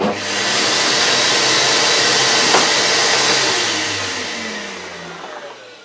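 A Rowenta Tonixo cylinder vacuum cleaner switched on, its loud, steady motor whine close by, running alone without talk and easing slightly in pitch and level toward the end.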